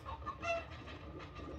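Chicken clucking emote from the Fall Guys video game, a quick run of short clucks over game background sound, fairly close and moderate in level.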